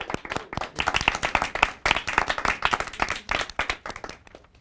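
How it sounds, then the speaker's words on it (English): A small audience claps for a debater on a live TV debate show, brisk, distinct hand claps in a close, lively burst that tapers off near the end. "let's give a huge round of applause to Simdan"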